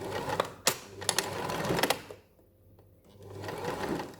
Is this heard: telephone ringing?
no